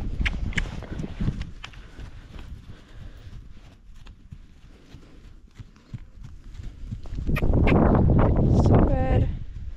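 Horse hooves thud rhythmically on soft ground as a horse trots on the lunge, a steady beat with a voice speaking encouragingly in Polish over it, growing louder toward the end.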